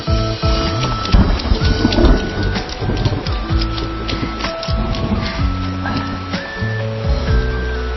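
Rain pours steadily while thunder rumbles low and heavy in rolling swells, loud and close, under a layer of background music with shifting tones.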